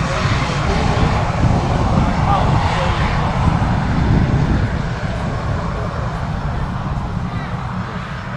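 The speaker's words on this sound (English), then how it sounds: "An aircraft rolling." A British Airways airliner rolls at Manchester Airport, a loud, steady broadband engine roar filling the whole stretch, with a voice speaking over it.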